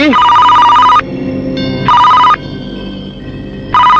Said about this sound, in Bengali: তোর বাপের ফোন আইছে